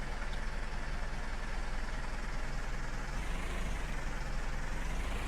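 Old tractor in the Farming Simulator game idling loudly and steadily, a constant close diesel rumble that fills the whole stretch with no talk over it.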